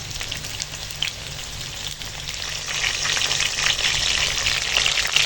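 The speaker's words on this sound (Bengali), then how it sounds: "দেখো পটল আলু সব ভাজা হয়ে গেছে" Pointed gourd and potato pieces frying in oil over a wood fire, a close, steady hiss and crackle of sizzling that swells slightly louder toward the end, with no voices.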